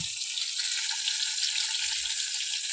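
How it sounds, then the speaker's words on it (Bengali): Tangra fish fry in oil in a pan, a soft continuous sizzle and hiss with a few faint pops, and no one talking. "ট্যাংরা মাছটা ভাজি তো চাপা দিয়ে ভাজতে হচ্ছে না ফটফট করে ফাটছে"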